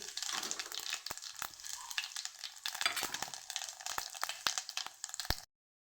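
Cumin seeds crackling and spitting in hot oil, a steady loud sizzle broken by sharp pops close by, stopping abruptly.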